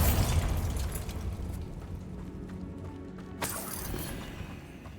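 Bombarda spell blast in Hogwarts Legacy: a loud opening burst with shattering debris, tailing into a rumbling fade, then a second sharp crack and crumble near the end.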